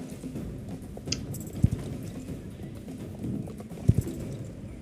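A horse's hooves clip-clop at a steady pace during a race over jumps in the Star Stable game, with a couple of sharper, louder thuds standing out against a low, even background.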